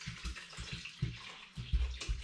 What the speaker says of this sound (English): I'm going to add about 3 litres of spring water into them.